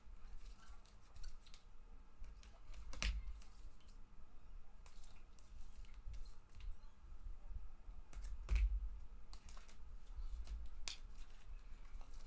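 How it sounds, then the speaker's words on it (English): Trading cards from an NBA random-team break are sorted by hand, giving soft scattered shuffles and light flicks with a few sharper slaps, close and quiet, with no talking. "Just sorting out these cards quickly."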